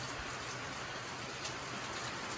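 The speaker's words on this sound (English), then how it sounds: "I just got caught in a crazy rain shower." Steady, dense hiss of a heavy rain shower drumming down around a rural packing shed, a constant broadband wash with no voices over it.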